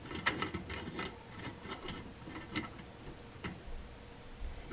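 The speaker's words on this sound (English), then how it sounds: "this is the arm that will screw into our base part" Small ticking and clicking of a 7-inch microscope's metal arm being screwed into its base, faint and close, in a steady run of light taps over low room noise.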